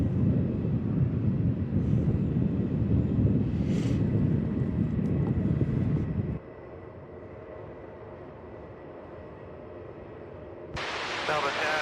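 A Jetstar Airbus A320 at Melbourne Airport produces a loud low jet roar that cuts off abruptly partway, leaving faint background hum before a hiss of radio noise comes in.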